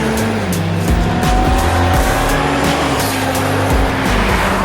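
A Ford S197 Mustang driven hard along a curvy road, its engine roaring loud and steady with shifting revs and tires squealing through the bends.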